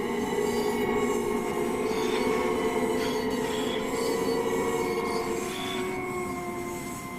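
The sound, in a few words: Long Island Railroad train departing, from the video game Train Sim World 4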